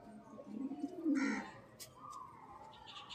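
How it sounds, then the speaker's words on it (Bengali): Madras pigeons coo softly in low, rolling bursts close by, with a few brief higher chirps and rustles afterward. "ম্যাডাস পায়রা এগুলো"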